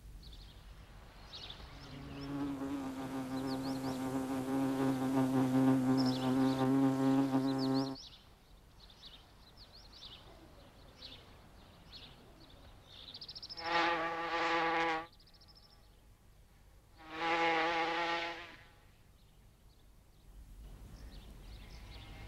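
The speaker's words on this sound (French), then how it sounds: "Les polistes sont une famille de guêpes sociales primitives." Paper wasps (Polistes) exploring for a nest site buzz in several passes: one long steady drone for several seconds, then two shorter swells a few seconds apart, fairly faint against a quiet background.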